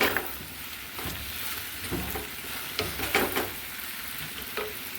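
Food frying in a pan while being stirred, a continuous sizzle broken by repeated scraping and stirring strokes, fairly quiet and close, with no talk.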